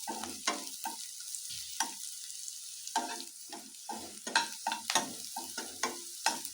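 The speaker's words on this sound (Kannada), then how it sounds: "ಎಲ್ಲ ಬೆಳ್ಳುಳ್ಳಿ ಶುಂಠಿ ಎಲ್ಲ ಚೆನ್ನಾಗಿ ರೋಸ್ಟ್ ಆಗ್ತಿದೆಯಲ್ಲ, ಹೀಗೆ ಇದನ್ನು ಪೂರ್ತಿ ರೋಸ್ಟ್ ಆಗಬೇಕು" Capsicum, garlic and ginger stir-fried in a pan for chicken manchurian, with a quick run of spatula scrapes and clinks over a soft sizzle, close up.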